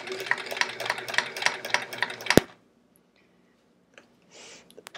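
A sewing machine running during free motion quilting, a steady rapid rhythmic stitching chatter for about two and a half seconds that stops abruptly with a sharp knock, followed by near silence and a few faint clicks.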